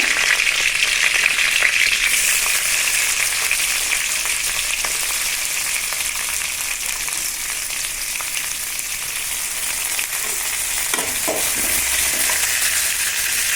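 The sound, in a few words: star anise, cinnamon and bay leaf frying in oil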